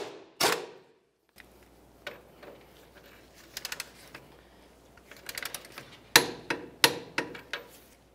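A torque wrench tightens a new upper ball joint nut on a Nissan Titan in a quiet garage, giving close, sharp metallic clicks and taps, some in quick clusters and louder toward the end.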